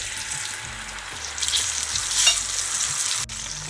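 Tamarind pulp goes into a hot pan with a pinch of hing for a coriander, mint and curry leaf chutney. A close, steady sizzle plays under brief stirring scrapes, with a short sharp knock near the end.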